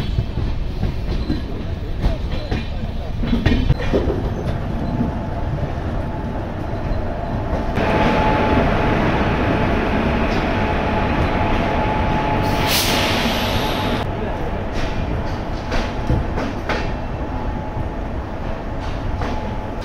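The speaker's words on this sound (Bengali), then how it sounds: "বন্ধুরা, ট্রেন কিন্তু শিয়ালদা স্টেশনে ঢুকছে।" The Puri–Sealdah Duronto Express rumbles steadily into Sealdah station with rhythmic clatter of wheels on the rails, and a brief high metallic squeal of brakes partway through.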